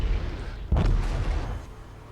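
Torpedoes hit an enemy battleship in World of Warships, giving one heavy booming explosion partway through that rumbles and fades out, loud and close, with no one talking.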